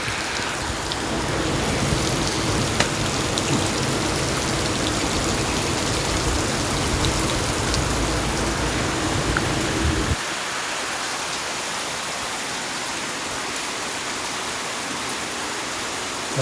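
Heavy monsoon rain pours down in Dapoli on the Konkan coast. It is a dense, even hiss of falling water that holds steady throughout, with a lower rushing layer that drops away partway through.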